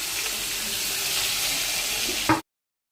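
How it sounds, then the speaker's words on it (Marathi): Onion sizzles in a pan of oil for poha, a steady, even hiss of frying that stops abruptly. "कांदा टाकूया. कांदा टाकलाय बघा."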